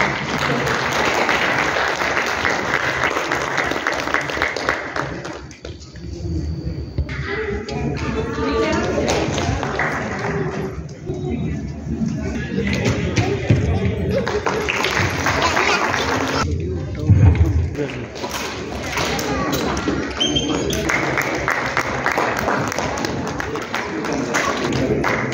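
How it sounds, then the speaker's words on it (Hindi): An audience applauds as awards are handed out at a Reserve Bank of India small-business outreach event in Ranchi. The clapping runs in long waves, breaking off briefly a few times, and voices mingle with it. "तालियां"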